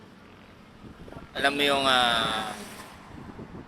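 Strong wind gusting outdoors on a road trip, a rushing roar that swells for about a second and a half and then eases, with a person speaking over it.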